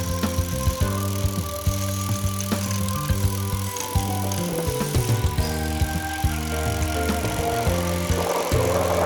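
A budget-built carbon road bicycle being ridden gives off a steady ticking rattle with sustained humming tones and small clicks close by. No one talks over it.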